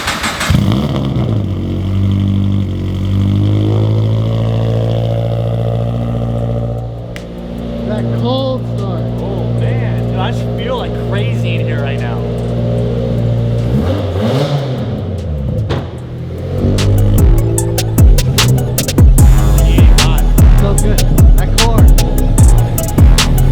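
Subaru BRZ drift car with racing seats, its engine idling loudly, then rising and falling in revs as it pulls out, with a harsher, louder stretch near the end and a voice briefly audible.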